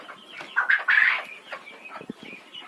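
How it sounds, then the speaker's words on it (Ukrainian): Chickens clucking and squawking nearby, a few short bursts and calls with quieter rustling between them. "Зараз погодувати треба курочок"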